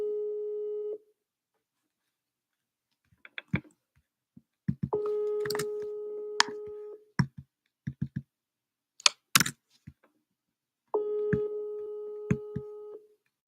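A phone call placed through a calling app rings out as steady repeating electronic tones, each lasting about two seconds, with scattered clicks and taps of a keyboard or screen filling the gaps between rings.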